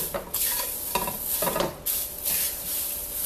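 Sweet and salty dried seaweed, seasoned with a pinch of salt, being tossed and toasted in a pan, with repeated scraping stirs in quick strokes over a soft sizzle, close and clear, no talking.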